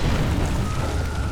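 A Nydus Worm dropping in StarCraft II: Legacy of the Void, a steady low rumbling boom that holds at a constant loud level for just over a second with no voice over it.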